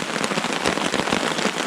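Steady heavy rain drums on a tarp strung over a hammock camp at Sixth Lake in the Essex Chain Lakes, a dense, continuous patter of close drops with no voices.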